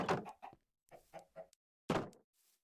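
Several short clucking calls of chickens in the video game Stoneblock 2 in a quick irregular series, clear and close, separated by brief silences.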